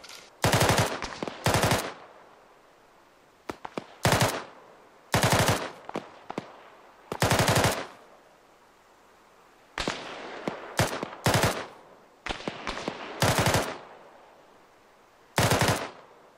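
Suppressive machine-gun fire in a video game comes in loud, sustained automatic bursts, roughly a dozen of them with short gaps between, close and punchy against a quiet background.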